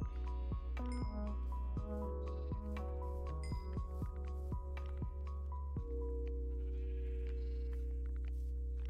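Minecraft sheep let out a run of repeated bleats in quick succession, each one short and clear, stacked over a steady sustained musical drone with light clinking accents.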